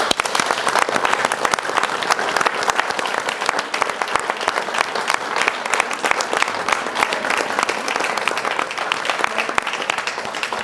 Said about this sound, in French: On peut chaleureusement les applaudir.